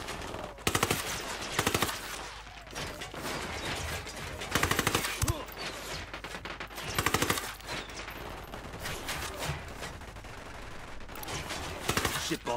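Player's automatic gunfire in Ghost Recon Wildlands, several sharp bursts of rapid shots spaced across the stretch, loud against a steady game background.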